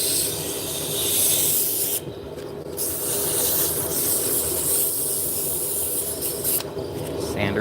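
A surface being sanded in a workshop makes a continuous, loud abrasive rubbing hiss that briefly cuts out twice as the sander lifts away.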